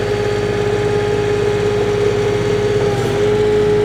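A 2021 Kioti DK4210 HST compact tractor with a loader and backhoe runs steadily nearby, a loud even engine drone with a constant tonal whine and no talk.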